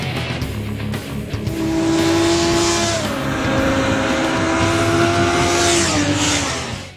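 Japanese liter-class sport motorcycles, Honda CBR1000RR, Kawasaki ZX-10R, Suzuki GSX-R1000 and Yamaha YZF-R1, ride through a Southern California canyon road, their engines loud and close, revving through rising and falling gear changes for several seconds before fading.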